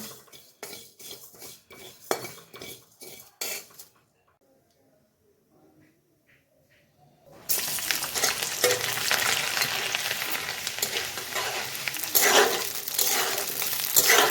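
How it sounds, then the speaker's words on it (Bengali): Pickle ingredients fry and get stirred in a pan, with a loud, steady sizzle and metal utensil scrapes filling the second half after a quieter stretch of clinking and scraping near the start. "এগুলো ভালো করে নেড়ে চেড়ে একটু ভেজে নেব লাল লাল করে"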